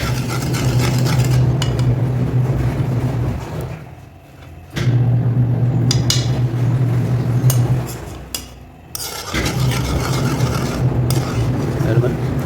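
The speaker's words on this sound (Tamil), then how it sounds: "மைதா போட்டு நல்லா கிண்டிக்கிட்டே இருக்கணும்" Maida flour is stirred in a pan for sohan halwa, a close, continuous scraping and clinking of the spoon against metal in long stretches with brief pauses between them.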